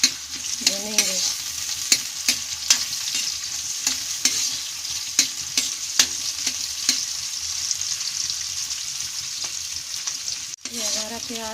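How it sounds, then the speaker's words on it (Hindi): Onion frying in a pan with green chilli and cumin for aloo matar, a steady sizzle broken by frequent sharp scrapes and taps of a stirring spoon, close and loud, with brief clatter near the end. "ये हमारा प्याज भुन गया है।"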